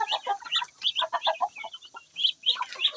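Native chickens cluck in a farmyard, a quick run of bright, close calls with a short pause in the middle before the clucking picks up again. No one speaks.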